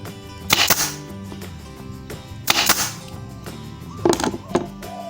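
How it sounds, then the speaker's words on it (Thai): An F30 pneumatic nail gun firing, several sharp close snapping shots in pairs, with a faint hiss of air between them. "เดี๋ยวเราจะลองยิงดูนะครับ วางแบบนี้นะครับแล้วก็กดครับ"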